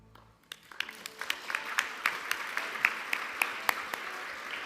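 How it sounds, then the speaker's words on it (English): At an HR achievement awards event, an audience claps, the applause beginning sparse and growing into steady, moderately distant clapping with sharp individual claps standing out. "A big round of applause for Cameron Maylett"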